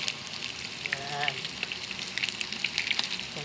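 Chicken frying in oil over low heat, a steady close crackling sizzle with scattered pops that runs the whole time, with a brief voice heard faintly partway through.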